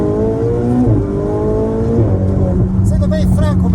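A Ferrari 488 Spider engine pulls hard in second gear, its rising whine climbing steadily before easing off, loud and close inside the cabin, with people talking over it.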